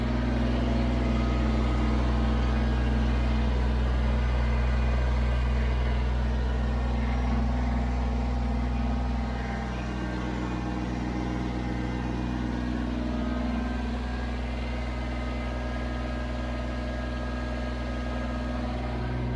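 A Kubota BX23s tractor engine runs steadily while trenching outdoors, a loud continuous drone with a slight drop in level about halfway through, no voices.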